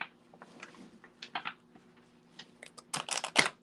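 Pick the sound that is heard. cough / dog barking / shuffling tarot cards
shuffling tarot cards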